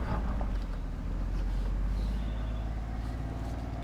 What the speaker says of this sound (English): The gas engine will turn on, all the lights go off, and now we ascend.